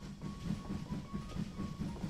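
A train in the VR game Hot Dogs, Horseshoes & Hand Grenades rolls along with a steady, rhythmic clickety-clack of wheels over rail joints, a low rumble and a thin tonal whine above it.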